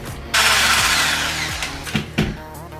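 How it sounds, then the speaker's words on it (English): A handheld electric mixer with wire whisks whirs loudly as it beats egg yolks with sugar in a bowl, a steady close motor drone with a few knocks and bumps against the bowl toward the end. "I'll whisk it together"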